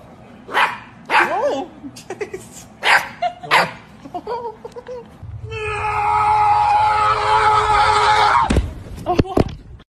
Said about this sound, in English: This meeting is going to be about all the barking that has been going on today